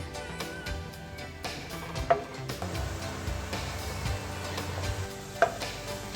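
Chopped onions fry toward golden brown in a pan, giving a steady close sizzle with occasional scrapes and clinks from stirring.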